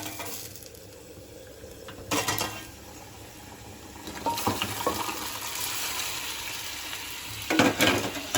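Shevla, a monsoon wild vegetable, going into hot oil in a pan, giving a broad hiss with sharp sizzling bursts near the start, middle and end, over a steady low crackle, close and moderately loud, with no voices.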